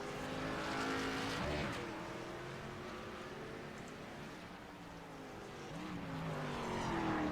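A race car on the Daytona road course, its engine note climbing and falling through gear changes as it runs near and then away, loud and continuous with no voices.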